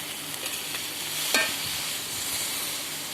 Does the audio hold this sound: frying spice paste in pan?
yes